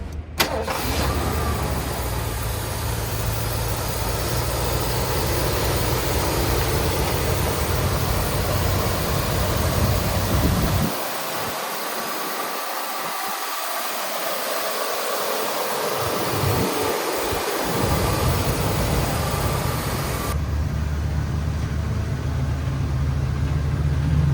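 A 1979 Lincoln Continental Town Coupe runs close by with a loud, steady engine drone that dips briefly in the middle, then carries on until a sudden drop near the end.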